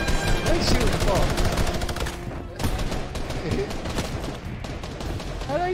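Gunfire in the video game Fortnite as players shoot at a box: rapid bursts of shots mixed with game effects, loud and continuous, with voices talking over it.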